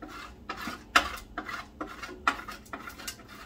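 Minced chicken being stirred in a bowl for cutlets, with grated frozen butter mixed in; a series of soft wet scrapes and sharp clinks of utensil against the bowl, close and fairly quiet, no voices.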